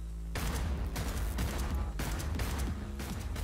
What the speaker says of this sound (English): Shoot the guns, Jackie.